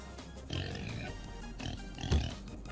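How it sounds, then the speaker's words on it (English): The king pig boss in the video game Turnip Boy Commits Tax Evasion, a pig that ate a ton of fertilizer, oinks and grunts in short snorting bursts over game music, with one louder grunt near the end. "Careful, there's a dangerous pig through this doorway."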